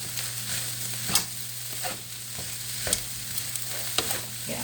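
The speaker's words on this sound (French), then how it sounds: "Parce qu'on veut le faire frire, hein? C'est du riz frit." Rice fries in a pan and is stirred for fried rice, a continuous sizzle broken by sharp scraping clacks from the utensil at irregular intervals, close up with no voices.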